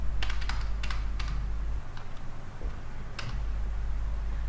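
Computer keyboard keys pressed while working in Busy accounting software, a handful of sharp clicks in small bursts with short pauses between them, close and crisp over a low steady hum, no talking.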